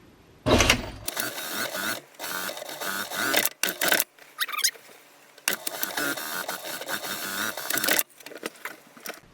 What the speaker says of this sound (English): You're going to go to your machine and you're going to stitch this closed.